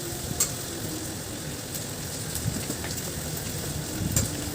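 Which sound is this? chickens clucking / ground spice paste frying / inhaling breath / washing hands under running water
ground spice paste frying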